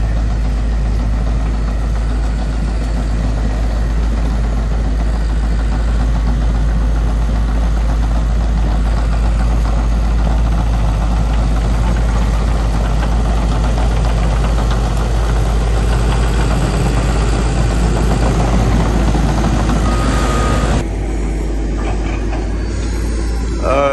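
The heavy, continuous rumble of a large diesel heavy-equipment engine idling up close at a foundation job site, with a steady low throb and a slight change in tone near the end.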